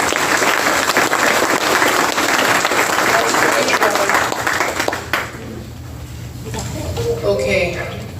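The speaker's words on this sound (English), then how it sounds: "Go ahead and give him a clap" An audience gives a speaker a round of applause at a special event, dense sustained clapping for about five seconds that then fades out, followed by quieter room sounds and murmuring.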